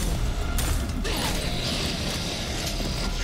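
A mechanism grinds and creaks as a door opens in the shooter game Prodeus, a loud sustained metallic rumble with a couple of clanks near the start, heard alone without talk.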